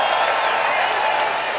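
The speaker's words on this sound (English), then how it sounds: "But please, everybody, give a big round of applause for Governor Burgum and thank him for coming here." A rally crowd in Michigan gives a dense, steady round of applause for Governor Burgum, loud and continuous, with cheering mixed into the clapping.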